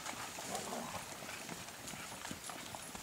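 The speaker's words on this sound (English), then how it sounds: "So here's the 6 horses that just came in to pack the meat out." Six pack horses on a mountain trail during an elk hunt, hooves clip-clopping in a loose, uneven rhythm at moderate distance amid outdoor ambience.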